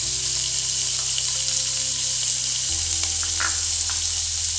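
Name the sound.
chicken pieces frying in oil for pizza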